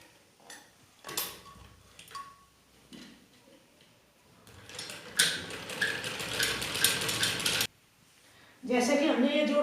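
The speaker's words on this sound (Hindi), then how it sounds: "इसको हम ऐसे इस सिरे से पकड़ के और यहाँ तक ऐसे सीधी सिलाई लगाएंगे" A sewing machine stitching a straight seam on an umbrella gown, heard as short mechanical whirs at first and then a long steady run of rapid stitching, a pause, and another burst.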